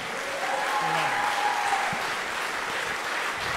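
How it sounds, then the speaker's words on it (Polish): Audience applause at the close of a stand-up comedy show in Nowy Dwór Mazowiecki, a steady dense wash of clapping filling the room at moderate level, with a faint voice briefly over it. "wielkie brawa!"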